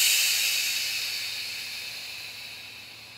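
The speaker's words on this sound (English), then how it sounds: "creating a shh" A long exhaled 'shh' breath from yoga pranayama breathing, a steady close hiss that fades slowly as the breath runs out.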